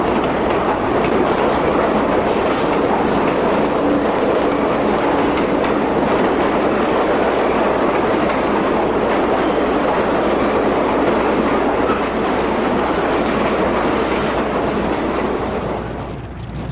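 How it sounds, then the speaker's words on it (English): New York City subway trains roll past at close range, a loud, continuous roar with rhythmic clickety-clack of wheels on track and faint squeal, easing slightly near the end. "We have trains going by."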